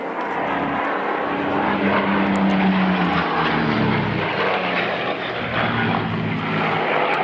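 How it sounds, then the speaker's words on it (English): A B-17 Flying Fortress, Sally B, runs up its four piston engines at a runway holding point before takeoff at an autumn air show at Duxford, a loud, steady propeller drone with a low throbbing beat, close and continuous throughout. "Sally B is down at the holding point for the runway, just running up, getting ready to get airborne"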